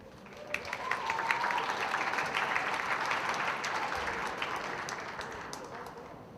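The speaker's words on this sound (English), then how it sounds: "where they all deserve a round of applause" An audience at the Mr. VHS 2022 high school pageant applauds. The clapping swells in, holds a broad, sustained wash for several seconds with sharper individual claps on top, then eases slightly toward the end.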